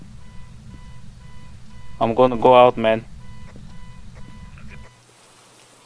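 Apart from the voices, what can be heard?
car alarm beeping in video game Phasmophobia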